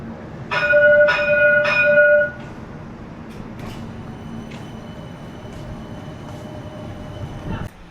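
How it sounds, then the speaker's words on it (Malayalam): Metro train at Mahatma Gandhi metro station, with three loud ringing chime tones up close, then a steady low rolling rumble of the train that carries on to the end. "ലാസ്റ്റ് മെട്രോ ആയതുകൊണ്ട് പോവാം."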